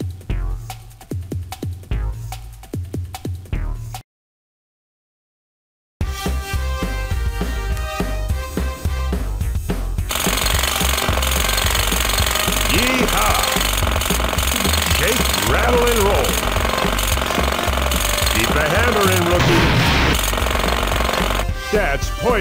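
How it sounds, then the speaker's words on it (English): A jackhammer in the Rescue Heroes: Hurricane Havoc video game rattles in rapid pounding bursts, stops for a couple of seconds of silence, then hammers on loudly and continuously. "Let's get hammering on the next floor."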